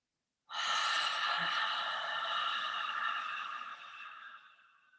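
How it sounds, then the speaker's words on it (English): A single slow, deep yoga breath, a long steady airy exhale after a brief start that fades gradually over several seconds, heard alone and close. "take a breath in and out, and we'll repeat that 2 more times"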